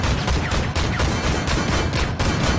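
An M2 Bradley fires round after round in the tank game Armored Warfare, a loud, dense barrage of rapid booming shots that continues through the whole stretch with no talking.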